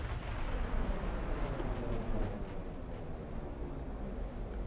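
Heavy 17-inch naval guns in the warship game Ultimate Admiral: Dreadnoughts rumble in a dense, continuous low roar of distant firing and booms, steady and loud throughout with no voices.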